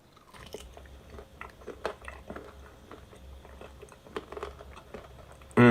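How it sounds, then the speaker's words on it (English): Close crunchy chewing and biting of food with a bone-like crackle, irregular bites and crunches through the mouth at moderate level, ending in a short loud burst, no talk. "I don't like how some of those crunches sound almost like bone."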